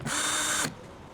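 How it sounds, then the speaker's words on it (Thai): A DCA cordless drill whirs at high speed for about half a second, then cuts off, leaving a faint hum. "สว่านใช้วันนี้ก็เป็น DCA"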